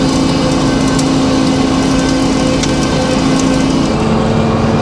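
A sawmill blade cuts a pine log into slabs, a loud, steady, continuous whine of blade and engine with rough grinding of wood running unbroken throughout.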